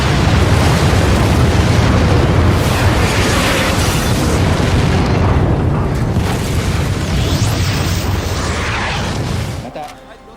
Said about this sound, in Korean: 지진을 동반한 화산이 폭발하기 시작합니다